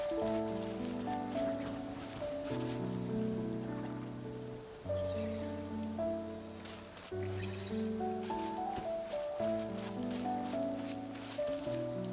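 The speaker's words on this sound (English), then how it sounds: "I like the rain." Steady rain falls in the Genshin Impact game world, a soft broadband patter running the whole time beneath a loud, layered melodic music score.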